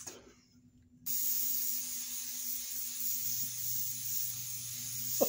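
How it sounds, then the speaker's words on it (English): A can of cooking spray sprays onto shaped croissant dough in a kitchen: after a quiet second, one sustained, close hiss runs for about four seconds. "Take my cooking spray and psst."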